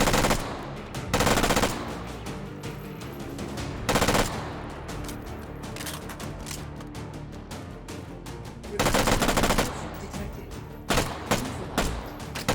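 Bursts of automatic gunfire in the VR shooter H3VR, several loud rapid strings of shots separated by short pauses amid ongoing combat noise, close and harsh.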